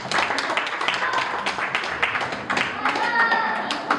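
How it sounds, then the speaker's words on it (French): Applause at a birthday party for those who brought gifts: a room of people clapping loosely and unevenly, moderately close, with scattered voices and children's chatter mixed in. "Je voudrais qu'on fasse un tonnerre d'applaudissements pour tous qui ont donné les cadeaux"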